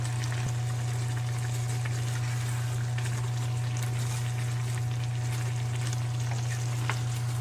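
Water poured into mutton curry frying in a pan, giving a steady, loud sizzling hiss with a continuous low hum beneath it and no voices.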